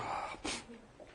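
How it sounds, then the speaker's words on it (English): A single sneeze bursts out close to the microphone from a person indoors, preceded by a sharp intake of breath and trailing into a faint exhale. "I'm going to sneeze."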